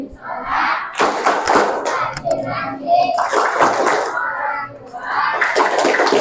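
A group of children chant and clap in rhythm during the tepuk anak soleh routine at an Islamic iftar study gathering; voices and irregular claps and thumps blend loudly and continuously.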